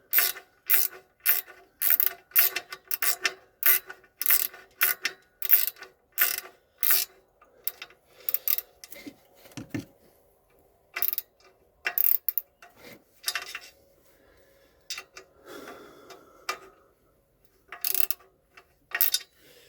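A hand ratchet tightens clutch pressure plate screws, giving bursts of rapid, crisp clicking that stop and start with short pauses, close and clear against quiet, with no talk.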